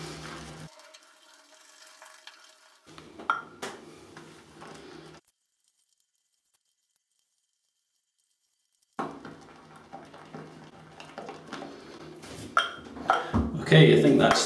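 A shaving brush whips Phoenix & Beau Sanskrit soap into lather in a bowl with soft, wet swishing and pattering. It falls silent midway, then returns louder and busier toward the end.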